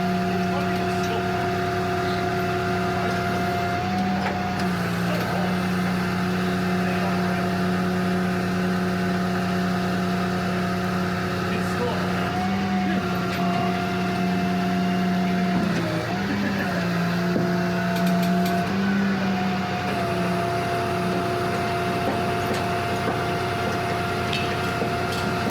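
An old American car driving along, with a steady engine drone and road rumble throughout and occasional speech over it.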